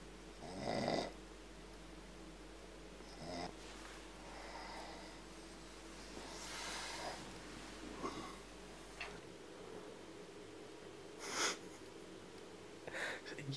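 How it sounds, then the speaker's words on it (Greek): A person on a comedy stage snores several times, loud rasping snorts with pauses between them, over a quiet background with faint ticking and sniffing sounds. "Ποιος ροχαλίζει τώρα"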